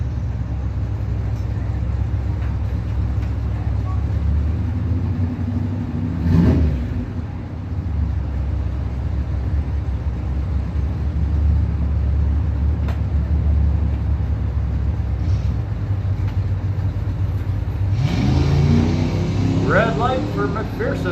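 At a Mopars Against the World drag race, a 1997 Chevrolet Camaro and its opponent idle with a steady, loud low rumble. A voice talks over it, and the engines rev hard and rise sharply near the end.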